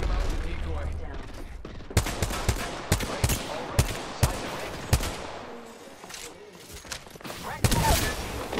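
Bursts of gunfire from a firefight in the battle royale video game Apex Legends, with repeated sharp shots and short automatic volleys. They ring out loud and close over continuous game noise, while a player talks throughout.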